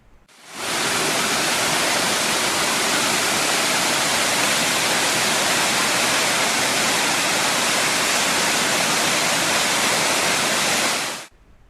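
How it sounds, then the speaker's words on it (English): High Force Waterfall on the River Tees in Upper Teesdale, where the river drops 21 metres: a loud, steady roar of falling water that fades in, holds without break for about ten seconds, then cuts off. "The best known and most visited feature of Upper Teesdale is High Force Waterfall."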